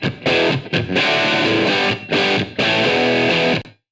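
Loud distorted music mix through a plate reverb, with a bright, washy reverb tail, playing in several bursts separated by brief gaps before stopping abruptly.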